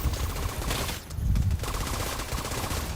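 Sustained gunfire from a firefight in The Division 2, dense overlapping bursts that roll on for the full three seconds with a brief dip partway through, loud and busy with no voices.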